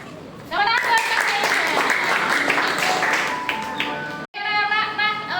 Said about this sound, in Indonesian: Tepuk tangan buat Kak